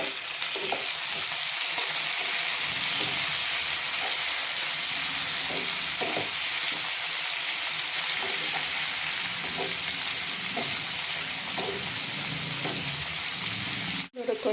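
Chopped tomatoes sizzle loudly and steadily in hot oil in a pan for brinjal kara kuzhambu, with occasional soft stirring scrapes under the constant frying hiss.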